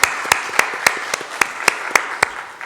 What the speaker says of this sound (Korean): 이들을 위해서 한번 감사의 박수를 한번 하겠습니다.